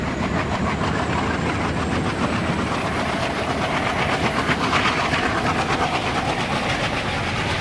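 A WTG-40 diesel train pulls away in an Indian Railways simulator game, its loud engine rumble mixing with steady clickety-clack of wheels over rail joints throughout.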